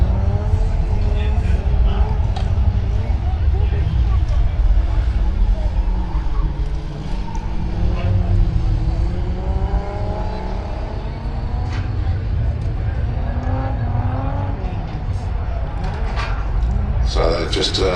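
Jet dragster cars being moved into position at Santa Pod Raceway, a loud continuous rumble of engines and vehicles with wavering tones, under steady commentary over a PA.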